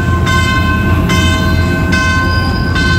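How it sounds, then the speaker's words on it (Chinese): A Taiwan Railways R200 diesel-electric locomotive arrives at a station. A loud, steady rumble carries tonal, horn-like notes, broken by a few short bursts. "这辆就是台铁公司新购入的欧系 R200 柴电机车。"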